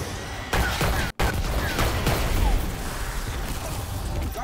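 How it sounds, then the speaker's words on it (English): A shotgun fires in an online multiplayer shooter game. Sharp blasts and crackling bursts come out of a dense, continuous wash of game noise, with a brief dropout early on. "I hear somebody's shotgun going off."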